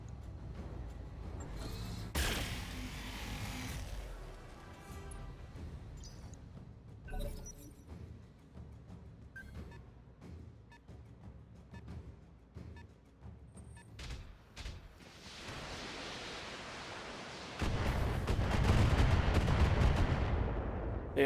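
Heavy weapon fire from BattleTech mechs striking a Thunderbolt mech, with loud booming bursts and crackling impacts at the start and a sustained roaring barrage near the end, separated by quieter scattered thuds.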